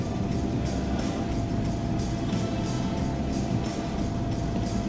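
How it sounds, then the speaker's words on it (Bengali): An intercity train travels from Chattogram to Sitakunda in Bangladesh. The carriage gives a steady loud rumble with faint rhythmic wheel clatter, heard from inside and continuous throughout. There is no talk. "আজকে আমরা যাচ্ছি ট্রেন করে চট্টগ্রাম থেকে সীতাকুণ্ড"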